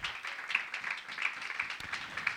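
A congregation claps along in a steady, quick rhythm during a church service, the even beats fairly faint and blending into the room's sound with no voices.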